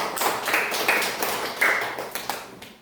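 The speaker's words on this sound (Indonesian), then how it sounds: "tepuk tangan untuk Rahel" Scattered, light clapping from a small group of children in an elementary classroom, a few sharp taps over a soft background, brief and fairly quiet.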